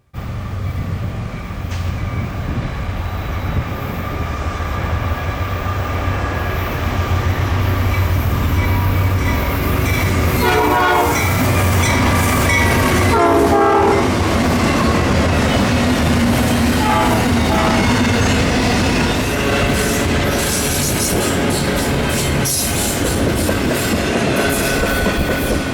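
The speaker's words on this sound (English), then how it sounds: "another intermodal with another C6M duo, but at least I got a horn salute this time." A Norfolk Southern intermodal train pulled by a pair of C6M locomotives rolls past, its horn sounding a couple of times over a loud, steady roar of wheels and rattling cars that carries on throughout.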